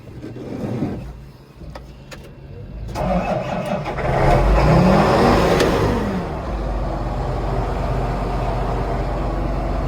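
John Deere 8220 tractor engine cranking and starting off a Milwaukee jump starter, a brief churn of the starter followed by the diesel catching and settling into a loud, steady idle close by.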